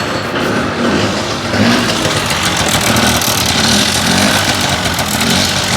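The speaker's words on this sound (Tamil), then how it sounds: "நம்ம வண்டி ஸ்டார்ட் மட்டும் பண்ணி பார்ப்போம்." A Honda 50cc two-stroke scooter started with its self-starter, the engine catching and running with a steady buzzing drone, close and loud, without speech.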